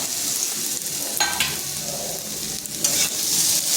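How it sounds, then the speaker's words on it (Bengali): Fenugreek greens and eggplant sizzle in a pan alongside fried, boiled potatoes, with steady frying hiss broken by a few louder scraping stirs, close and with no talking. "এরপর দিয়ে দিচ্ছি শাক আর বেগুন।"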